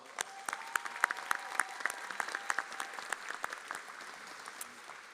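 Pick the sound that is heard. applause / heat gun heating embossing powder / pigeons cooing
applause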